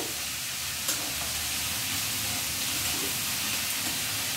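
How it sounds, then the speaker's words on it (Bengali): Chicken and vegetables frying in a pan for egg chicken chow mein give a steady, close, even sizzle and hiss, with one brief clink near the start and no voices. "সবজি আর চিকেনটা মোটামুটি ভাজা হয়ে গেছে।"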